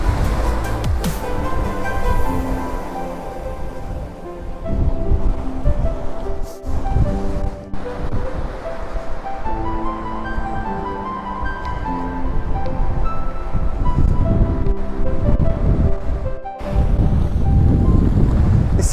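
Sea waves washing onto Cheswick Beach in Northumberland, near Holy Island, heard as a steady loud surf roar mixed with gusting wind buffeting the microphone, with no talking.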